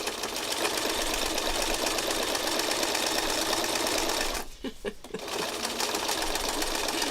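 A sewing machine runs steadily as it stitches scrap fabric, a loud continuous whirring buzz that briefly stops and stutters for about a second before resuming.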